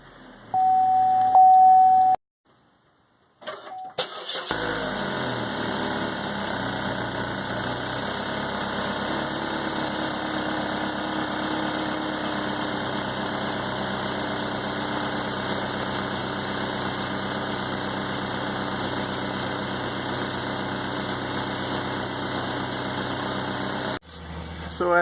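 A 2012 Chevrolet Equinox engine starts after a cracked muffler repair and settles into a steady, low idle that runs evenly until it cuts off near the end.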